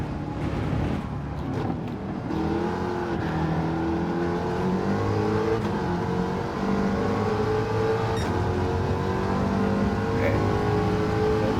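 Eckert's Rod and Custom Mach Forty in Gran Turismo 7 runs at full throttle on a wet Circuit de La Sarthe, its engine a loud, continuous roar with climbing harmonic pitch through the gears.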